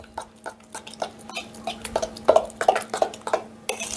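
Milk soured with a tablespoon of lemon juice being mixed in a bowl: a series of light clinks and taps of a utensil against the dish, irregular and close, with no talking.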